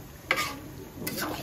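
Meat curry being stir-fried kosha-style in a pan after a splash of water, with two quick scraping stirs of the spoon over a soft, steady sizzle, close by and fairly quiet, no talking.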